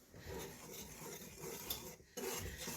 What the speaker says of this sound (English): I'm gonna whisk that up really quick